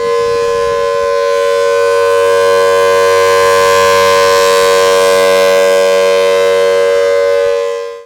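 A Westmont Thunderbolt civil defense siren wails loud and close in one sustained, steady multi-tone blast lasting several seconds before cutting off abruptly.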